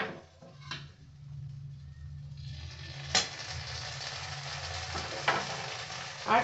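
Fish curry masala fries in a pan with chopped tomatoes and tomato sauce, giving a soft, steady sizzle. Occasional clinks of a spoon against the pan break through, all fairly quiet and close.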